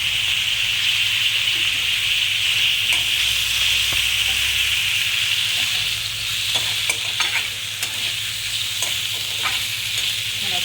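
Spices sizzle and fry in a pan for a Navratri fasting dish, Dangrachi bhaji, seasoned with red chili powder and salt. A steady close hiss fills the scene while a spoon stirs and scrapes at intervals, with no talking.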